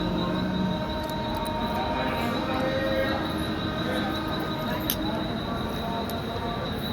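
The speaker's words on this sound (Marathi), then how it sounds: "तेवढ्यातच ट्रेन आली म्हणून मस्तपैकी असा शूटसुद्धा केला." A train pulls into Lonavala station, a broad steady rumble with ringing metallic tones and faint squeals, amid busy platform murmur and background voices.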